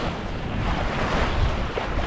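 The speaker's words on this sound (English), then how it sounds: "Still a few waves." Ocean waves wash and surge steadily against a boat at sea off Kawau Island, New Zealand, with gusty wind noise buffeting the microphone and no voices.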